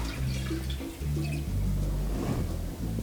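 Water poured into an Instant Pot while making chicken pozole rojo, a steady continuous stream running for about three seconds with only brief dips, fairly loud and close with no talk over it.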